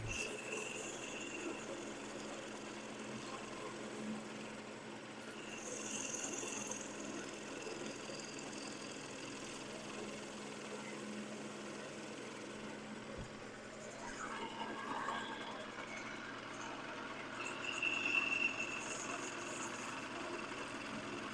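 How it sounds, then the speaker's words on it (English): A wood lathe runs at a raised speed in a woodturning shop, giving off a quiet, steady mechanical hum and whir with slight swells. The sound carries on alone throughout. "And I suppose I can speed the lathe up a little bit."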